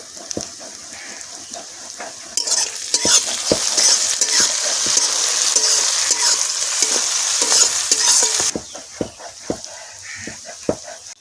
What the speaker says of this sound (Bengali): পেঁয়াজ লাল করে ভেজে নিয়েছি